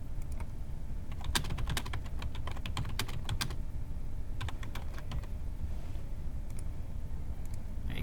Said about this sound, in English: Easy for me to type, right?